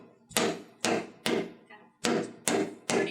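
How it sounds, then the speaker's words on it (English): A rubber mallet taps a wooden shelf into a small storage cabinet with six sharp, close thuds in an uneven rhythm, a short pause falling midway through. "Got a nice rubber mallet here."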